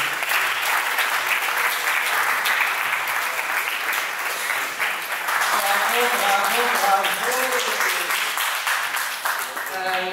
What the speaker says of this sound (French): Je vous prie d'accueillir sous un tonnerre d'applaudissements M. Franck Sakoni